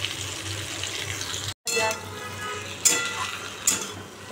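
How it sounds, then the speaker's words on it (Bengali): Vegetable curry with thick stalks and turmeric is stirred in a pan. A soft, bubbling sizzle is cut by a short silent gap, followed by two sharp scrapes of a utensil against the pan. "এবার নাড়িয়ে দিই।"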